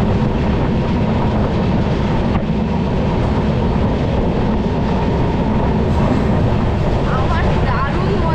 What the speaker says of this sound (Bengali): চা বাগানের পাশ থেকে ট্রেনটা যাচ্ছে আর ঠান্ডা হাওয়া একটা লাগছে